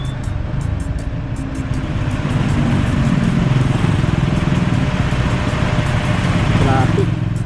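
Road traffic of cars and motorcycles rumbles past in a continuous, fairly close stream, engines droning and shifting as vehicles pass, with no clear pauses.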